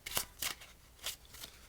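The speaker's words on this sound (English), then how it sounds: "So I will do that overhand shuffle one more time" Four soft, separate slaps of cards dropping in an overhand shuffle, spaced unevenly, close and fairly quiet.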